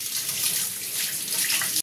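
A kitchen tap runs steadily into a sink while dishes are washed after cooking, a continuous broadband water rush that stays close and even with no talking, then cuts off abruptly right at the end.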